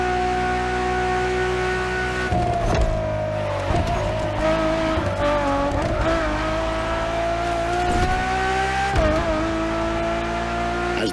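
A Ferrari Enzo roars through a race in The Crew Motorfest, its engine droning loudly with pitch rises between gear shifts and bursts of tire squeal as it corners.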